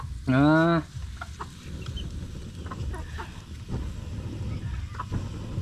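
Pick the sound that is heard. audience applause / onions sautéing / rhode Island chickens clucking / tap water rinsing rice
rhode Island chickens clucking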